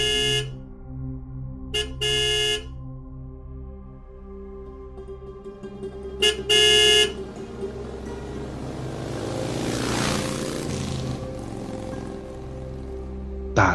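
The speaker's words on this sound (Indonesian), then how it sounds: "Ya, saya klakson aja dek" Car horn in a horror cartoon about an online motorbike taxi ride, a few short loud honks at the start and middle over quiet ambient music and a swelling eerie tone.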